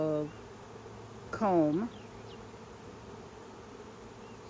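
Honeybees swarming into a homemade swarm trap in spring give a steady faint insect hum, with a brief, louder rising buzz as a bee passes close by.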